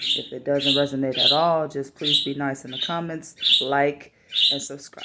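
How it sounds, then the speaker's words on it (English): Two pet birds chirp in short, high bursts in the background while someone talks steadily in the foreground, the tweets recurring every second or so. "Apologies for the birds in the background."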